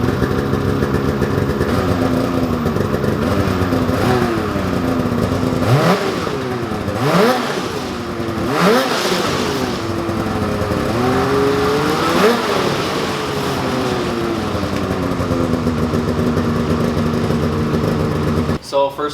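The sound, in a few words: motorcycle starting up and revving with stock exhaust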